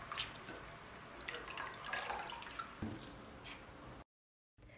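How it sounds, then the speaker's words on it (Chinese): Dried pollock pieces are rinsed under a running tap, giving a close, continuous splashing and trickling of water over fish in a kitchen. Brief wet squishes come through before the flow cuts out near the end. "接着掰下鱼头，也用水洗一下。"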